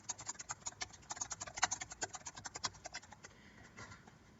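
Quick, uneven clicks of fingers tapping keys on a computer keyboard as a price is entered, faint and close, with a short pause before a few softer taps at the end.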